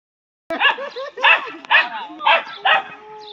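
A dog barks in five loud, evenly spaced bursts, close to the microphone, as frightened people react nearby.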